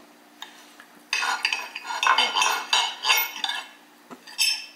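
A butter knife scrapes and clinks against a plate while cutting through a cooked sausage and egg omelette, with a sequence of close scraping, tapping strokes; no talk.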